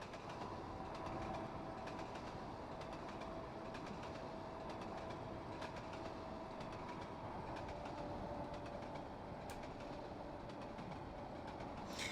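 A train runs steadily in the Trainz Driver Journeys 2 Iberia simulator, a continuous low rumble with faint rail clicks and occasional squeaks, quiet and alone.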